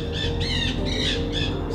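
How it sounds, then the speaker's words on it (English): A flock of parrots squawks as it flies overhead on a rainy day, giving repeated harsh, rhythmic calls close and loud over a steady low background rumble. "Here come the parrots."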